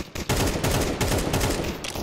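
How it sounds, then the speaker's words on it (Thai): Rapid gunfire from Counter-Strike 2, loud, dense bursts of shots and impacts filling the whole stretch with brief gaps near the start, no talk over it. "ว้าวเสียงปืนดูแน่นขึ้นนะ"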